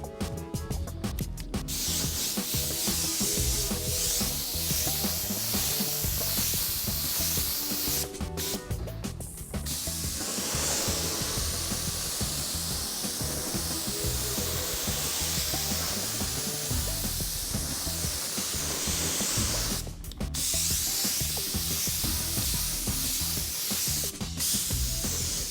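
Automotive primer sprayed from a spray gun onto a car panel in a confined space, a steady loud hiss running almost continuously with a few brief pauses between passes.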